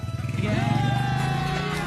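A motorbike engine revs up and pulls away close by, rising in pitch briefly, and then settles into a steady run, with a voice speaking over it.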